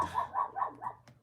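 Dogs barking in a home, four quick close barks in a steady rhythm followed by a short trailing yelp.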